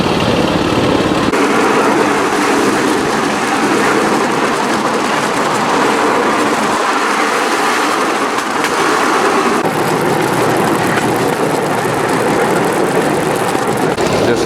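Cambodian bamboo railroad train with its small engine running continuously, a loud, close buzzing drone mixed with rattling over the rails that shifts in pitch a few times, with no talking.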